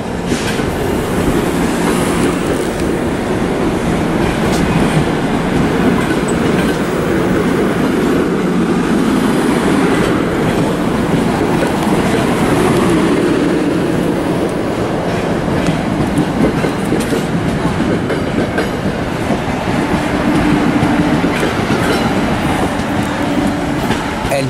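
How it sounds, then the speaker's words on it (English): An Amtrak ALP-46 electric locomotive hauling a train toward New York Penn Station roars past at Trenton Station on the Northeast Corridor, loud and close, with continuous rumble and rhythmic wheel clatter throughout. "we have a unknown ALP 46 train to New York Penn Station"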